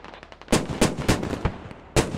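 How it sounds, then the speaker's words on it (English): A PPSh submachine gun fires in short bursts in the video game Squad, several sharp, loud reports in quick succession with one more shot after a pause, over low background rumble. "And another fantastic burst of PPSH."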